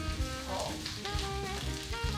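A seafood pancake fries in a pan over medium-low heat, giving a steady, close sizzle with a faint scraping swish as the pan slides, over light background music.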